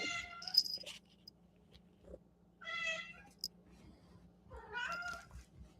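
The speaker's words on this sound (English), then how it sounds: "This one's Teak, if you can recognize the meow." Three distinct meows from a nearby cat, spaced a second or two apart in an otherwise quiet room with a faint low hum.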